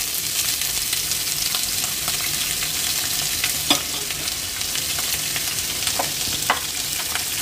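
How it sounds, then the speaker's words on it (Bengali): Chopped onions fry steadily in oil for birista, a dense continuous sizzle with occasional clinks and scrapes of a stirring spoon against the pan, no voices. "এই পেঁয়াজটা তেলের মধ্যে লাল লাল করে ভেজে আমি বেরেস্তা বানিয়ে নেব।"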